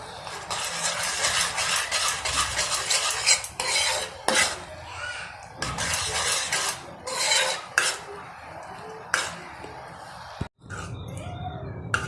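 A spoon stirs and scrapes a thickening cake cream mixture in a metal pan, with repeated close scraping bursts separated by short pauses and no speech.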